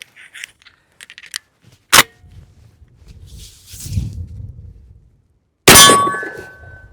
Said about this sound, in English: Let's test trigger bar's ability to reload this thing.